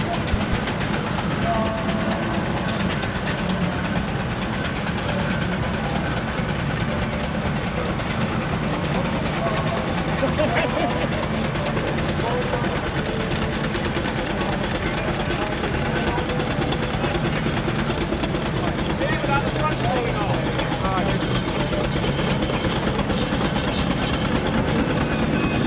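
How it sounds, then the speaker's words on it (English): A double trunk compound Garrett steam traction engine hauls a heavy haulage trailer up a hill at a steam rally, a continuous dense mechanical rumble with chuffing and clanking, steady and fairly close, with crowd noise around. "Next up is then a double trunk compound Garrett pulling one of the heavy haulage trailers."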